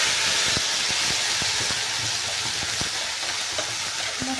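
Ground masala with mustard seeds and cumin frying in a pan, a steady close hiss and sizzle with scattered soft pops and stirring clicks throughout, no voices.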